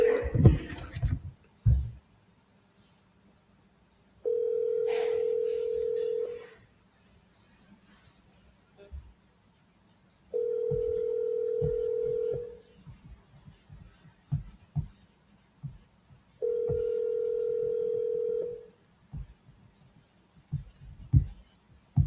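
Telephone ringback tone while placing a call, three separate steady buzzing tones each about two seconds long with quiet gaps between them, interspersed with faint clicks and handling noises.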